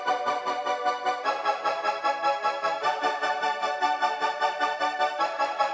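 Dark synth brass layered with the Nexus Dark Horns 2 preset, playing a sustained chord progression with pulsing, evenly repeating swells, heard alone and moderately loud with no talking.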